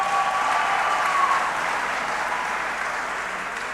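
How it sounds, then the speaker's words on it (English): A colloquium audience gives sustained applause, a soft, dense wash of many hands clapping together from a distance that stays even and then slowly tapers, with no talking. "Can you give him applause?"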